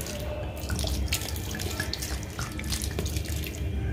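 Water poured and sprinkled over a mixed potting soil blend, a close, continuous splashing and trickling with scattered drips, no voices.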